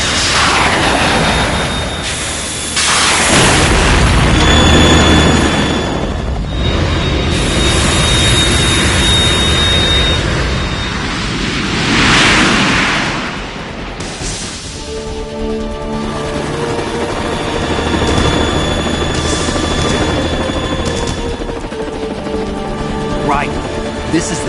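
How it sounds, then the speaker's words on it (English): Metal Gear Solid 2 game audio of a Harrier jet roaring continuously with explosions and booms over a busy mix, with a voice talking through it. "The Kasaka can't stand up to the Harrier. You have to shoot the Harrier down."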